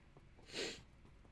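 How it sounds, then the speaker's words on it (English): A close, sharp sniff right at the microphone, one short nasal burst peaking mid-clip over a quiet background. "Don't sniff right into the camera, Liam"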